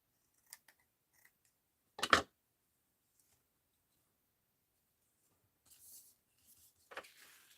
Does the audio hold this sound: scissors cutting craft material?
yes